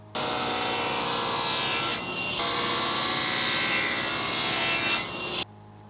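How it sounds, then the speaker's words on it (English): A table saw cuts 45-degree miters on wooden boards, a loud sustained whining roar through the wood with two brief dips in pitch. It ends abruptly to a quiet hum. "The next step is to cut a 45 on one end of these two boards."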